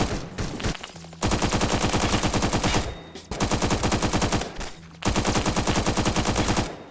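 Gunfire in Phantom Forces, loud, close bursts of rapid automatic shots lasting about two seconds each, separated by short pauses and a quieter opening stretch, with no voices.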